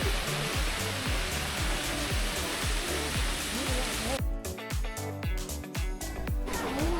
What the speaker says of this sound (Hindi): जहाँ एक पत्थरों का छोटा सा पहाड़ है और उस पे एक खूबसूरत सा वाटरफॉल बह रहा है